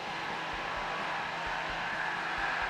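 A stepper motor under microstepping drive turns at 100 rpm, giving a steady whine with regular soft low thumps repeating evenly throughout.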